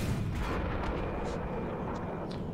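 The main gun of an M46 Patton tank fires in a video game, a heavy booming blast with a rumbling tail over continuous low engine noise.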